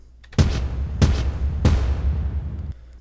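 Three deep, heavy booms used as sound effects in a music track hit at a steady pace about two-thirds of a second apart. Each one is loud and sharp, then decays into a low rumble with no voices.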